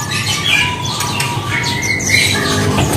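Caged birds at a bird seller's stall, including pleci (white-eyes), chirp and squawk busily close by, overlapping calls in a dense, continuous chatter.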